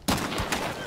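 A single sharp gunshot from the video game Hunt: Showdown, fired from a sniper tower, a loud close crack with a short decaying tail.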